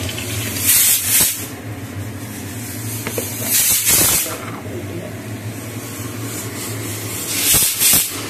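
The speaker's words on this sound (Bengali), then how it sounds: "পেঁয়াজটা ভাজছি।" Onions fry in oil in a pan, giving a steady sizzling hiss with several louder bursts of spatter, close by and without talk.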